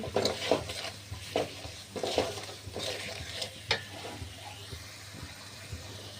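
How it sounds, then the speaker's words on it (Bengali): Ground cardamom and garam masala powder are stirred and fried in a pan in a home kitchen, scraping stir strokes over a soft sizzle, a few utensil knocks against the pan, no speech. "এলাচ বেটে ভেজে বেটে নিয়েছি সেইটা দিয়েছি গরম মশলার গুঁড়ো সব দিয়ে যে কষিয়ে নিচ্ছি"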